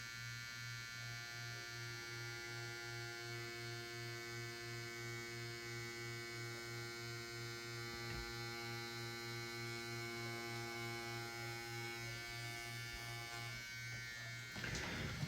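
A tattoo machine running at 7.5 volts on practice skin gives a steady, close electric buzz with an even pulsing rhythm and a constant mains-like hum. It runs alone the whole way, with a brief knock near the end.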